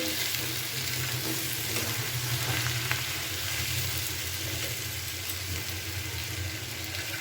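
Boiled potato and brinjal with chopped coriander leaves sizzle in a pan during a rohu fish dish, with a dense, steady hiss and faint stirring.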